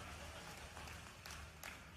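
Crowd applause at an outdoor political rally in Indore: faint, dense, continuous clapping from many hands, distant and steady across the short span.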